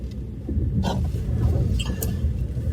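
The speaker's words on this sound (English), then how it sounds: "I'm driving to work." A car drives along the road on a morning commute, a steady low engine and tyre rumble heard from inside, with faint brief knocks and rustles.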